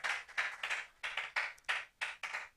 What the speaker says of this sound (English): Please could you clap those beautiful hands to the Lord?